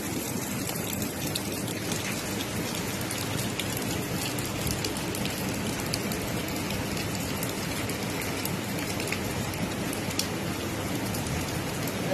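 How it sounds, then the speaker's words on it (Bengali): Heavy rain falling outdoors, a dense, loud, steady hiss of drops striking surfaces that stays constant throughout with no voices. "দিদিভাই বৃষ্টি কিন্তু শুরু হয়ে গেছে"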